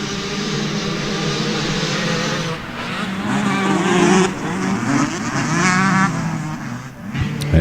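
Two-stroke open class motocross bikes race at Winchester Speedpark MX, a loud, sustained engine roar whose pitch wavers and climbs as several bikes rev together, close and continuous with no voices.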